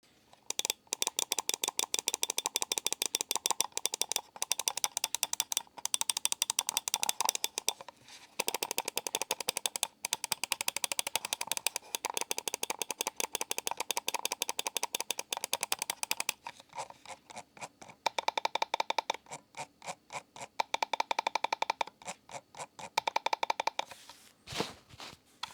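ATK F1 Ultimate V2 gaming mouse buttons clicked in rapid, dense bursts alongside scroll-wheel rattling, close and dry with brief pauses between runs and no speech.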